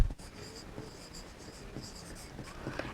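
An answer being written by hand makes a faint, steady scratch of pen on paper, close up and quiet, for a few seconds.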